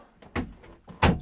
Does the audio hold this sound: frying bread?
no